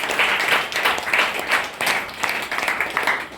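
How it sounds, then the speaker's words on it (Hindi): An audience at a success-story event claps in uneven waves that rise and dip across the few seconds, a fairly dense crowd applause with some voices mixed in. "एक बार जबरदस्त तालियां चाहिए आप लोग के लिए"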